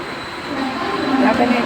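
A train pulls into a station, its rumble and faint wheel squeal swelling over a second or two at moderate loudness.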